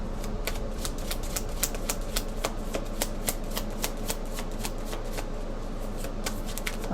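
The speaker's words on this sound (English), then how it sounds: "Turn these cards over there." Tarot cards shuffled and flipped over by hand, a steady series of sharp, close card snaps and clicks at an even, brisk pace over a low background hum.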